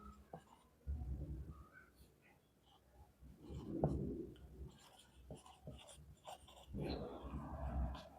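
Marker or chalk scratches across a board while chemistry names are written, soft intermittent strokes in short bursts with breathy pauses between, close but quiet.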